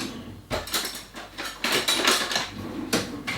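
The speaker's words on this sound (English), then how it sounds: "So you're going to give that a good stir now" Beef stroganoff with spices being stirred in a slow cooker, heard as a close run of thick scraping and clunking spoon strokes against the pot, with no talking.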